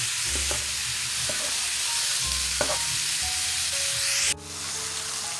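Ground beef sizzles and fries steadily in a frying pan for sloppy joes, with a few scraping stirs; the hiss drops off abruptly near the end and then continues more quietly.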